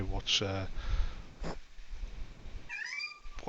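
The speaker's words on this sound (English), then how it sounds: "Is there a cat stuck somewhere?" A cat meows twice, a short harmonic cry near the start and a longer rising-falling meow near the end, with a person's voice speaking briefly between them over soft room noise.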